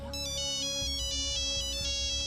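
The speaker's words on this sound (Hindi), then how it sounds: "इस वक्त किसका फोन आ गया?" Mobile phone ringtone plays a bright, repeating electronic melody, loud and close, with no talk over it.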